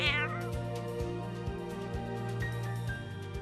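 A cat meowing at an animal shelter, one clear meow at the start over a steady background hum with repeating mechanical ticks, fairly faint overall.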